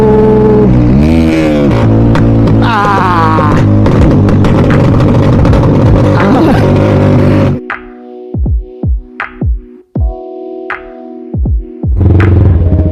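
A loud Yamaha R15 motorcycle, one of three cruising on the road, roars and revs close by, then drops to idle as a rapid string of sharp exhaust pops and bangs crackles out before the engine rises again.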